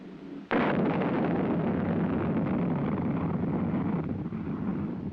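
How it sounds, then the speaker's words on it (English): A missile's first-stage rocket motor ignites at launch, fired from a remote panel about 150 meters away: a sudden loud blast opens into a sustained, steady roaring rush that fades only slightly over several seconds. "Following the initial thrust provided by ignition of the first stage rocket motor"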